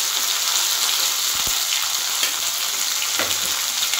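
Ginger, onion, chilli and garlic pastes fry together in a pan for a Bengali fish-head and taro-leaf dish, giving a steady, close hiss with a few soft stirring knocks and no talk.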